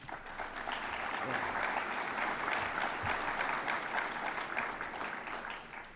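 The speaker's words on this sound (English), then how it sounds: "give yourselves a round of applause" Audience applause at the opening session of a track and field coaches' convention: a sustained wash of many hands clapping in a large hall, even and moderately distant, fading slightly at the end with some crowd voices mixed in.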